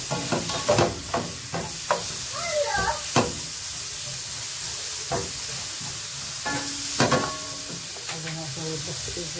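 Sausage fries in oil while a utensil scrapes and stirs it around the pan, giving a continuous close sizzle broken by repeated sharp scraping clicks and stirring strokes, with intermittent talking over it.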